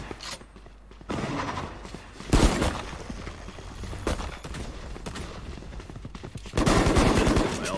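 Bursts of rapid gunfire in Valorant with sharp shots and short automatic volleys, loud and close, separated by quieter stretches of game ambience.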